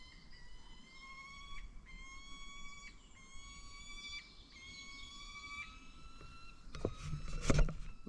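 A loud bird call rings out on a windy hillside during a hiking and camping trip: repeated clear, high whistled notes over low wind rumble, ending in a louder gusty thump.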